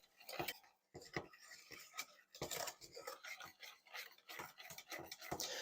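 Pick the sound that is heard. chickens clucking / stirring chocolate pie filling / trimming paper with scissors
stirring chocolate pie filling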